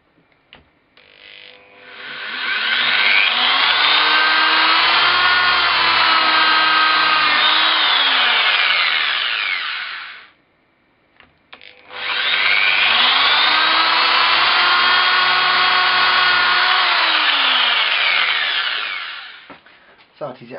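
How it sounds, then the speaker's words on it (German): A wood drill bit boring holes in material for a Scandinavian knife handle: two long, loud, steady power-drill whines of about nine seconds each, separated by a brief pause, close by and unbroken by speech. "Ich verwende übrigens einen Holzbohrer, weil der mit seiner Spitze sehr präzise ins Material eingreift."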